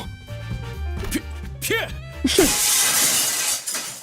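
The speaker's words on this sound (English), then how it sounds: "The chandelier crashed to the floor in full force, making a tremendous noise that thundered through a casino." A chandelier crashes down in a casino scene from the Limbus Company video game, a loud glassy shatter with a wash of tinkling debris that follows tonal music and overlaps a speaking voice.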